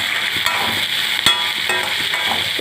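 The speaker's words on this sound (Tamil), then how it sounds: "தக்காளி சேர்த்துட்டு வதக்கிக்கலாம்" Steady sizzling of tomatoes sautéing in a pan, with occasional scraping stirs, close and continuous without any talking.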